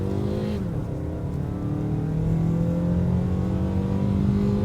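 A Mazda CX-5 with the naturally aspirated 2.4-liter Skyactiv engine and all-wheel drive accelerates at full throttle in sport mode, a loud, steady engine drone rising in pitch from inside the cabin, with no talk.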